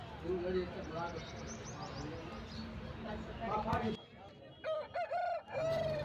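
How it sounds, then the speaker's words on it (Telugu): A purebred rooster about one and a half years old, 3.5 kg in weight, crows at a livestock market in Rayachoti, Annamayya district, heard at moderate distance among market noise, followed by people talking nearby. "బ్రీడింగ్ అయితే ఎక్సలెంట్ పుంజు, మంచి జాతిలో ఉన్న పుంజు."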